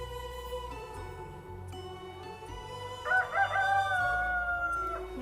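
A rooster crows once, a long cock-a-doodle-doo at moderate distance, at a place where chickens are kept, heard over steady low background hum.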